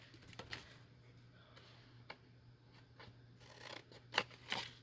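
Scissors snip through thin cardboard from Band-Aid and cream cheese boxes in quiet, irregular cuts, with faint rustling and a low steady hum underneath.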